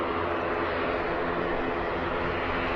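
Aircraft on London Heathrow's runway 27R near Terminal 5 in the evening, a loud, steady broadband engine roar filling the whole stretch without a break.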